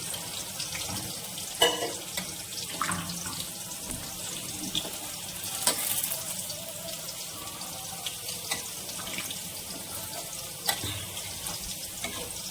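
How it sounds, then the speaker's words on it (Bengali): Water pours steadily into a pan of mutton curry that has been fried down for about an hour, giving a continuous running, splashing wash with a few brief sharper clinks along the way. "এবার জল দিয়ে দিচ্ছি।"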